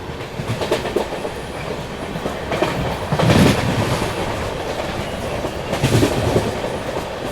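Duronto Express train on the Bangalore to Kolkata run, accelerating after crawling, with steady clickety-clack of wheels over rail joints and a continuous close rumble from inside the coach, with a couple of louder surges.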